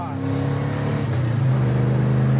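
A 1971 Chevy Chevelle's engine pulls hard under acceleration, a steady loud low drone that rises slightly in pitch and holds for a couple of seconds with no voices over it.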